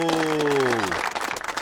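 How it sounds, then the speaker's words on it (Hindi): A small group claps for Barbaros after a dinner, brief and somewhat loose, starting under a voice that overlaps the first part of the clapping. "तालियां हो जाएं।"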